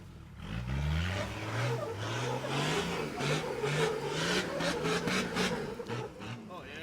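A 4WD engine revs hard in second gear on a slippery off-road track, its rising and falling drone steady and loud throughout with scraping, rubbing texture over it.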